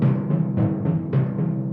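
A close snare drum plays a quick run of even strokes with recurring accents, a triplet pattern with back-and-forth sticking that blurs into a duple feel, heard alone.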